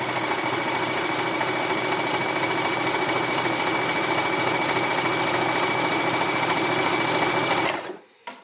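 A Janome SE 7522 sewing machine stitches embroidery at a steady fast whir for several seconds, close and even, then stops abruptly with a brief click.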